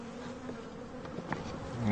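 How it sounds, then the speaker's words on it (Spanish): Bees transported from the north fly around an apiary while acclimatising, giving a soft continuous outdoor buzz with faint passing hums over a steady background drone, with no talking. "Las abejas transportadas desde el norte se aclimatan volando."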